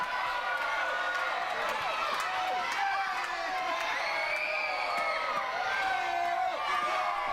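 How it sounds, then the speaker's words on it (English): A wrestling arena crowd at a heavyweight championship show cheers and shouts steadily throughout, a dense, loud roar with whoops rising over it and commentary voices talking on top. "And the crowd lapping this up."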